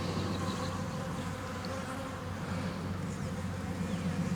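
Honeybees buzz in front of a hive, a steady, even drone heard close by and unbroken throughout, with no talk.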